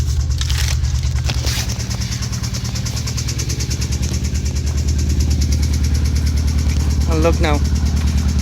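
A Hyundai Veloster Turbo engine with a knocking fault runs at a steady, loud idle with a rhythmic low throb, while someone speaks briefly over it.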